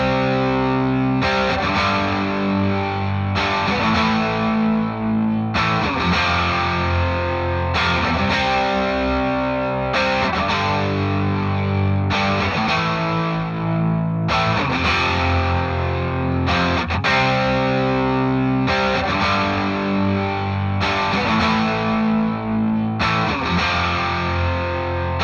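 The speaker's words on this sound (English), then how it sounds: "the saturation's making those low mids a little bit thicker" Saturated, distorted electric guitar chords ring out in a steady repeating rhythm, thick and warm in the low mids, played alone with no talking.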